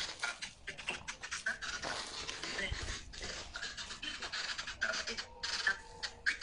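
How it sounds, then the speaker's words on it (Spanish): Close, rapid panting from dogs in a cemetery, breathy and continuous, with occasional scratchy rustling and faint whines mixed in. "Otra vez empezaron los perros."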